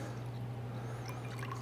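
Tequila old fashioned cocktail poured from a mixing vessel into glasses, a soft steady liquid trickle with a faint splash near the end, heard close and quiet with no talking.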